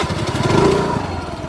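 A small motorbike or scooter engine runs steadily nearby with a buzzing, even drone that holds constant for the whole moment, with no voices.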